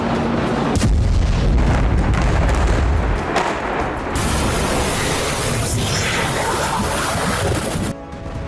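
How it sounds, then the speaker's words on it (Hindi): Loud, dense rumbling blasts and booms from bombing in southern Lebanon, continuous heavy roar with sharp bursts throughout and no talking. "आईडीएफ ने लेबनान के उन इलाकों में बमबारी की जहां हिजबुल्लाह के ठिकाने, मिसाइल और रॉकेट लॉन्च साइट मौजूद है।"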